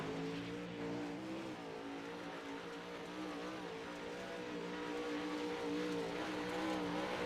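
A drag race car's engine drones at Charlotte's Spring Nationals, a steady harmonic note that wavers slightly in pitch as the car rolls over track bumps, distant and fairly quiet.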